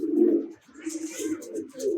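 A pigeon perched up high near a loft gives a low, throaty coo in two or three swelling phrases, close and clear, with a short gap between them.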